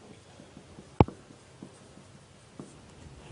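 Writing on a board during a stochastic models lecture, with one sharp tap and then faint, intermittent scratching strokes in a quiet room and no talking.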